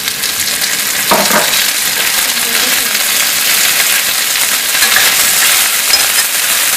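Green peas hit hot oil in a pan of frying onion for potato masala, giving a loud, continuous sizzle and crackle with a brief stirring clatter near the start.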